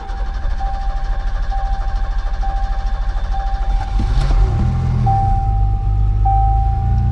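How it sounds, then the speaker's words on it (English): An old Ford Ranger truck that has sat unused and is low on gas cranks with a rhythmic whir, then catches and settles into a loud, low rumbling run, with a steady electronic beep sounding throughout. "Let's see if this old Ranger's gonna start."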